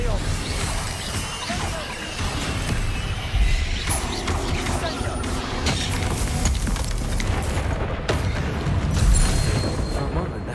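Spell explosions and magical blasts in the video game Hogwarts Legacy, a dense, continuous barrage of booms, crashes and thuds heard up close and loud throughout, with a voice casting spells over the din.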